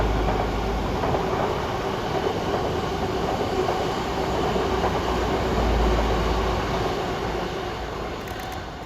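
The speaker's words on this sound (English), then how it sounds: "So that was a southbound Azuma" Southbound Azuma train crossing Yarm Viaduct, a loud, sustained rumble and rush of wheels on rails that holds steady and begins to fade toward the end, heard alone.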